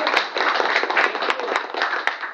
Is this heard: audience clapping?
yes